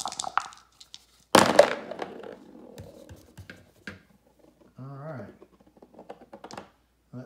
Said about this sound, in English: That dice finally stopped spinning